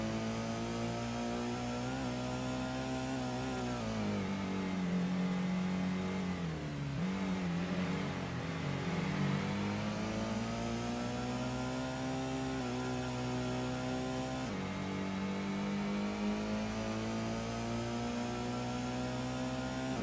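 A Chevrolet Corvette in the Gran Turismo racing game on Special Stage Route 5 drones loudly and steadily at high revs for the whole stretch, its pitch briefly dipping and recovering twice as though shifting gears.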